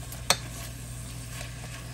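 A utensil scrapes once across the bottom of a hot pan, loosening browned seasoning, a short sharp scrape over a faint sizzle and low steady hum, followed by quieter scuffs; no talking.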